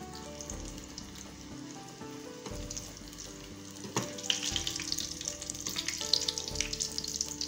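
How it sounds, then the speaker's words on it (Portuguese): Eggplant slices breaded for milanesa fry in a pan with a steady crackling sizzle close by, growing livelier and louder in the second half, with a few faint clinks, and no talking. "Deixa fritar um lado."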